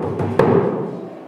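A bodhran drum played for three bars in a traditional Irish session setting, heard as a couple of sharp hand-drum strikes over a low, steady resonant rumble, fairly close and loud.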